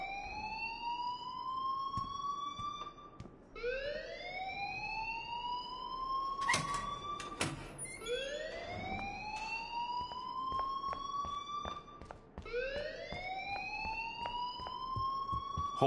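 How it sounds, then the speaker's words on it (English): In the Life Is Strange video game, an alarm repeatedly rises in a swooping, siren-like wail, each sweep lasting a few seconds before restarting, with some sharp clanking noises mixed in partway through. "please turn off that alarm since that's your job"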